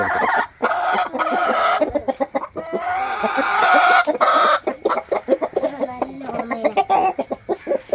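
Hens and roosters in a backyard coop cluck and squawk close by in a lively, irregular flock chorus, with sharp bursts of calls throughout.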